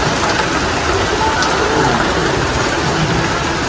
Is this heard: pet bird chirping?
no